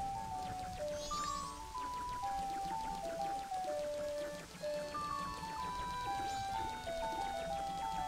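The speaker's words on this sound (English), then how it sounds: "And a nice rainstorm, too." Rainstorm in the video game The Legend of Zelda: Majora's Mask, a steady hiss of rainfall running throughout beneath a layered game music track with melodic notes, no speech.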